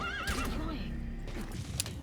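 A horse whinnies loudly in the video game Metal Gear Solid V: The Phantom Pain on PS3, a rising and wavering neigh over steady in-game background sound, followed by softer hoof and ambient noises.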